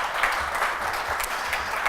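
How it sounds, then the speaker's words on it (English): An audience at a sales summit applauds to welcome speakers onto the stage, a dense, even burst of many hands clapping together in a hall, sustained and fairly loud throughout. "Give them a round of applause to welcome them to the stage"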